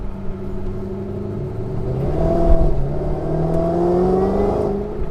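A 2011 Shelby GT500 accelerating through turns, its supercharger whining in a rising, wavering pitch over a loud, steady engine rumble from inside the car, swelling midway and holding strong to the end.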